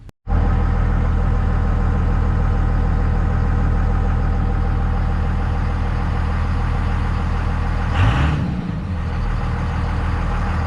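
A 2001 Cummins diesel pickup with a VP44 injection pump fires up after long cranking and settles into a loud, steady, close idle clatter, with a brief swell near the end.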